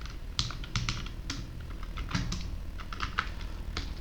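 Fingers typing on a computer keyboard, with steady close clicks of keys at an irregular, brisk pace and no voices.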